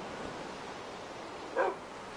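A single short dog bark from a Minecraft dog in a dog pen, sounding once, brief and moderately clear over a low, steady background hiss.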